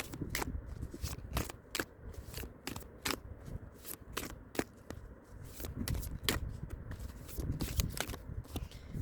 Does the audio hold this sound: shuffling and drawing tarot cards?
yes